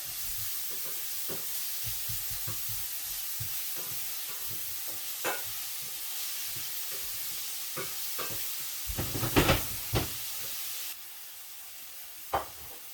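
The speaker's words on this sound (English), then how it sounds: "Now you want to cook these for about 4 minutes, maybe 5, just till they soften" Onions fry in a pan on a caravan stove, giving a steady, close sizzling hiss broken by occasional stirring scrapes and clatters.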